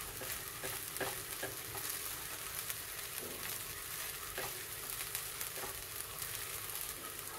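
Sabudana khichdi with crushed peanuts is stirred in a pan over a soft, constant sizzle, with a spoon scraping and tapping at irregular intervals; quiet and close, with no voices.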